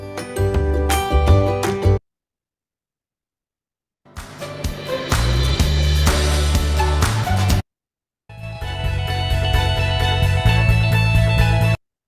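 Upbeat, cheerful song from the Canva audio library, played in three loud sections of full music separated by brief silences, with no talking over it.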